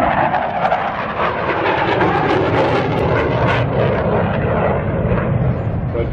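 A Denel Cheetah C fighter jet flies a display at the SAAF Museum air show, producing a loud, continuous, roaring jet engine wash that stays strong and steady throughout.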